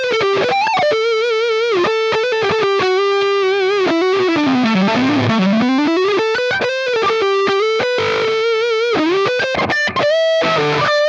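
Fender Player Series Jazzmaster electric guitar through a high-gain distorted tone, playing loud sustained riffs and bending lead notes with chorus-like shimmer, steady and close with no talking.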